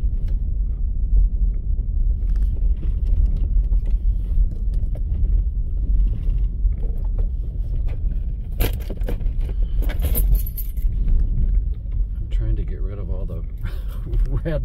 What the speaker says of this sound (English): rattling noises with all my keys and my 5-hour energy and gum